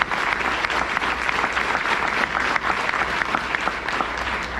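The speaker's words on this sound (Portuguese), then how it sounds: "Vamos aplaudir o Senhor Jesus por isso." A church congregation applauds during a worship celebration, loud continuous clapping from a full room with sharp individual claps standing out over the dense wash.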